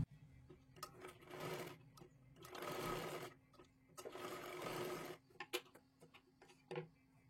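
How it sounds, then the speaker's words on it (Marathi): Sewing machine stitching cloth for a blouse sleeve, running in several bursts of rapid mechanical whirring separated by brief pauses and small clicks, close and fairly quiet with no talk. "पूर्ण आपल्याला शिलाई मारून घ्यायची आहे"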